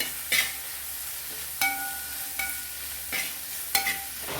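Beef curry being stirred in a pan, a few distinct scraping strokes at an unhurried pace over a soft, steady sizzle, fairly close.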